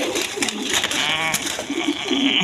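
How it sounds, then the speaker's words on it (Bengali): Restless red Bombay pigeons call loudly at close range, a short run of throaty coos with one drawn-out, bleat-like note in the middle, over constant background hiss and no speech. "দেখেন কীরকম ছটপট কবুতর একদম রেড কালারের মধ্যে বোম্বাই রেড কালারের"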